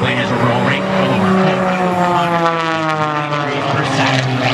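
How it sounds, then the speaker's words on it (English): An aerobatic propeller airplane with an engine of over 400 horsepower roars steadily at an air show, a loud continuous drone with shifting harmonic pitch as it maneuvers overhead. "Now this engine cranks out over 400 horsepower."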